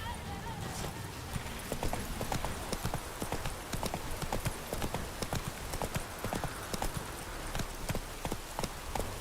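Hoofbeats of Geralt's horse Roach trotting in The Witcher 3, a steady, fairly close clip-clop rhythm running throughout over game ambience, with faint speech-like sound in the mix.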